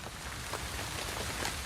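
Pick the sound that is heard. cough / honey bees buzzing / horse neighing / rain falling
rain falling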